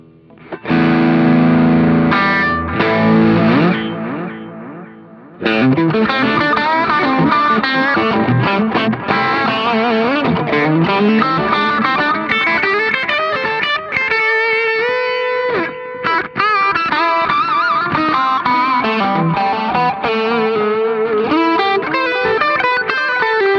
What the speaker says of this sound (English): Okay, so now I've created my effects chain in an empty patch